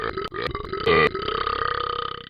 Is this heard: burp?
yes